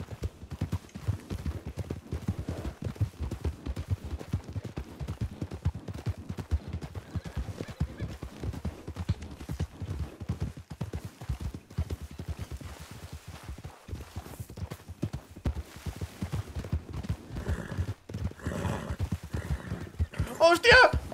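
Hooves of a black Morgan horse galloping in Red Dead Redemption II, a steady rapid clip-clop with occasional whinnies, running under continuous talk throughout.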